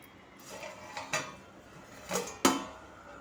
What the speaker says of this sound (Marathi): चला झाकण काढून बघते